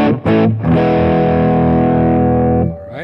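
Electric guitar through a JDM Vindicator germanium fuzz and boost pedal set for a Blues Breakers-style lead tone: a couple of short picked notes, then a loud, sustained, saturated chord that rings out and fades.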